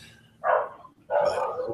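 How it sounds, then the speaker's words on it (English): A puppy dog barks twice in quick succession, close by and fairly loud, with a short pause between the two sharp yaps. "That would be the puppy dog."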